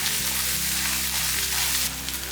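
Onions sizzling and frying in a pan with turmeric for country chicken chops, a steady, close hiss running unbroken throughout with no one speaking.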